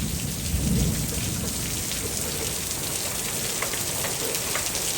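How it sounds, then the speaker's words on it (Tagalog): Heavy rain pours down steadily during a storm in a rose garden, with rumbling thunder low underneath, continuous and close with no speech. "Oh, lakas na ng ulan."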